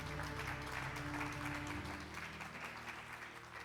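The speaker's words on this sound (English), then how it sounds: "Come on, keep on clapping like you're going to recover everything." A church congregation claps along in a steady, dense wash of hand claps under music, fairly distant and continuing throughout.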